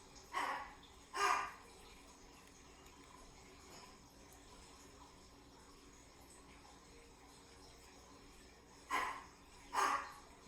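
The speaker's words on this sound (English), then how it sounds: "so that may be why he's barking" A dog barks twice, pauses for several seconds, then barks twice more, moderately distant, with faint insects chirping in the quiet background.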